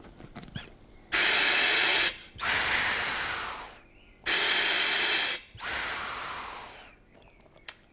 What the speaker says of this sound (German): Wenn wir dort einatmen, dann strömt Luft ein